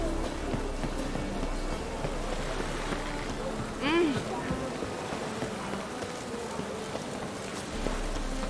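Steady rain falls in The Twitcher 3, a continuous hiss of drops on surfaces with a faint wind bed and a brief whistling sweep near the middle, broadly even and moderately quiet throughout.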